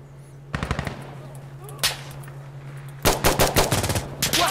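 Automatic gunfire in the shooter game Insurgency Sandstorm, with rapid bursts of shots in two main volleys and a single crack between them, loud and close over a steady low hum.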